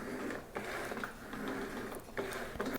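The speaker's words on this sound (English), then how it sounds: "Right now the dirty mop is going to the clean chamber, and then I'm wringing it out" A JOYMOOP mop is wrung out in the dry chamber of its bucket, producing a continuous close mechanical whirring and ratcheting grind with a few brief dips and knocks and no voices.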